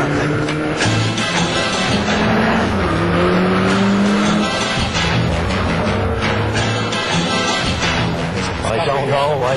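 A three-wheeled car drives fast nearby, its engine droning loudly with rising and falling pitch and a brief tire squeal, while people talk over the noise throughout.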